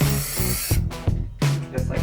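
A spray can hisses paint onto painted miniatures in several short, close bursts, each starting and stopping abruptly with brief pauses between.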